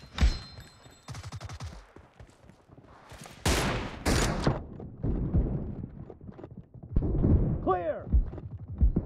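Gunfire rings out in the mobile shooter BGMI during a team deathmatch. Bursts and single shots crack at varying distances, mixed with game sound effects and voices talking over the action.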